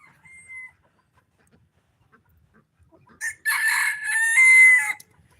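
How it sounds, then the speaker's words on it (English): A rooster crows loudly and close by on a farm, one long harmonic call after a brief faint chirp, with cackling fowl sounds around it. "all the roosters are crowing, trying to get hens to come follow them"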